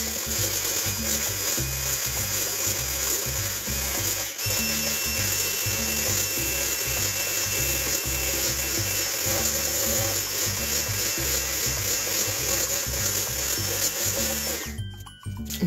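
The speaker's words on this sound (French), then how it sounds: "Maintenant, on va fouetter le tout au fouet électrique." An electric whisk beating eggs for a lemon cake, holding a loud, steady whirring drone with rhythmic rubbing that runs without a break and cuts off abruptly at the end.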